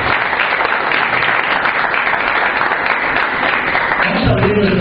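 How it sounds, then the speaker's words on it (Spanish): Applause from a church congregation at a Spanish-language service, a steady, dense clapping that fills the whole clip at close range without a break. "démosles un fuerte aplauso"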